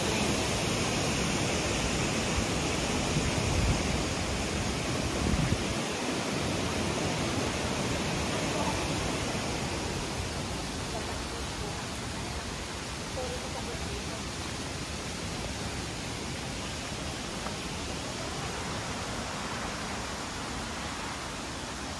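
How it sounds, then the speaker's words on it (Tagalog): Inglis Falls, a waterfall near Toronto, gives a steady broadband roar of falling water, close and continuous throughout with no breaks, under a brief faint sound of people. "It's a beautiful falls."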